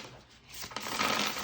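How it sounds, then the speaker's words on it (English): A thick-cardstock tarot deck is rifle shuffled, a brief soft riffling flutter of cards building up close and quiet, with no talk. "rifle shuffle."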